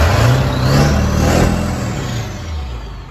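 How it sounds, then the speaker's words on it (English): A 2001 Ford E450 cutaway flatbed's 7.3 Power Stroke diesel revs up loud and close, holding a raised roar before easing back down, with no talking. "Rev it up for you guys real quick."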